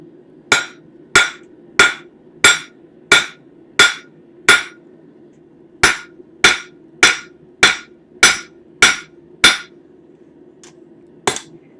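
About sixteen sharp, ringing hammer blows strike stainless steel to taper a spoon handle. They fall in an even rhythm, roughly one every half second to second, with a short pause midway, and are close and loud.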